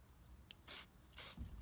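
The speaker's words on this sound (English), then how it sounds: "I am using sprayable paint stripper to rise up old paint" Paint stripper sprayed from a trigger bottle onto old, multi-layered painted alloy wheels: three short, hissing spray bursts, close and fairly quiet, with brief pauses between them.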